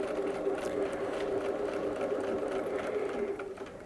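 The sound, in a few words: sewing machine quilting feathers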